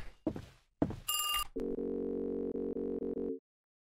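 In a horror video game, a telephone gives a few clunks and a short bright electronic chirp, then a steady buzzing ring tone with brief regular breaks before it cuts off.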